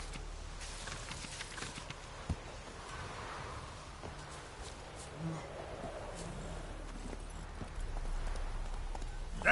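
Hooves of Roach, the horse in the video game Witcher III: Wild Hunt, clip-clop in a steady walking rhythm, fairly soft against faint wind and rustling ambience.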